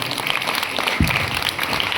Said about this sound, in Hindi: सभी अपनी माँ के लिए तालियां बजाइए